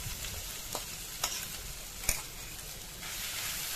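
Butter chicken gravy sizzles as it is stirred into fried shredded chicken in a pan for a samosa filling, with a steady fry hiss broken by a few sharp spoon scrapes, close and without talk.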